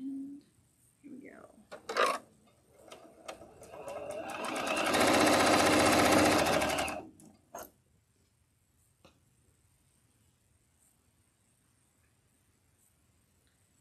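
Sewing machine stitching with a quarter inch presser foot, a steady dense whir lasting about two seconds, close and loud, with brief clicks and handling noises before and after, and a person speaking briefly at the start.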